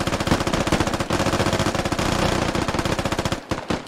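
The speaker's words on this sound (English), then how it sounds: "Someone started shooting." Loud, sustained automatic gunfire from a SquadOps firefight rattles in rapid, evenly spaced shots, broken by a short pause near the end before firing resumes.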